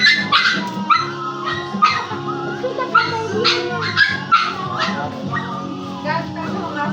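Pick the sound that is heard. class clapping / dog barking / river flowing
dog barking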